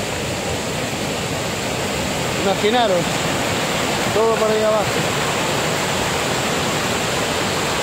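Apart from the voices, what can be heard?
waterfall at Augas Caídas, Galicia, from the top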